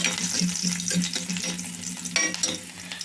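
Onions fry in hot oil, three large ones cut in half, with a steady loud sizzle and crackle and a few soft stirring knocks throughout.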